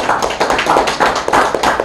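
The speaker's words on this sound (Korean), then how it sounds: "박수 부탁드리겠습니다." Audience at a press forum applauds during an appointment ceremony: a dense, steady patter of many hands clapping close by, continuing throughout without pause.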